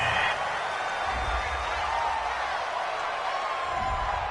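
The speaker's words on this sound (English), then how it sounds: "This home crowd, they're happy with that call." A home crowd in the Madden 20 football video game roars steadily in approval of a referee's call, a broad sustained cheer with no clear peaks.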